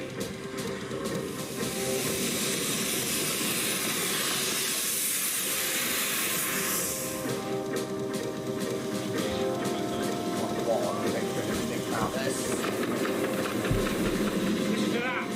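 A large standard-class-size steam locomotive on the two-foot-gauge Welsh Highland Railway works hard up a steep climb, with a steady loud hiss and chuffing roar throughout and faint voices underneath.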